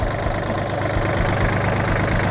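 A Kubota L3408 tractor engine idles steadily and close by, a continuous low diesel rumble with a faint knocking pulse and no talk over it.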